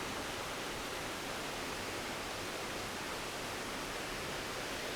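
Dolgoch Falls, a tall, narrow waterfall in Snowdonia, Wales, pours in a steady, dense broadband roar that holds unchanged throughout with no other sounds.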